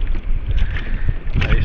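Strong wind at sea buffets the microphone with steady low roaring gusts during a paddling outing off the coast, a rowing boat or kayak moving through choppy water close by, with no voices.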